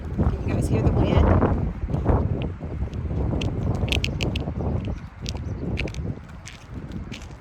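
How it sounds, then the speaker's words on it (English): Wind gusts buffeting outdoors, a steady rushing roar with brief stronger bursts, close and fairly loud under light chatter. "Oh, it's windy. Can you guys hear the wind?"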